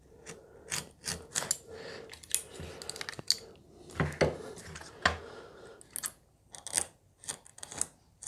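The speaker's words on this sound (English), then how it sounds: "see if I can just kind of trim this down a bit with a scalpel" A scalpel trims a guitar veneer on a Rickenbacker 620/12 build, giving a series of short, close scraping and cutting strokes in irregular bursts, with small clicks and pauses between cuts.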